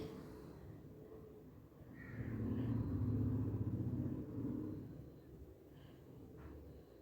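An electric beater on low speed mixes marble cake batter with a faint, low motor hum that swells for a few seconds in the middle and then eases back to a quiet drone.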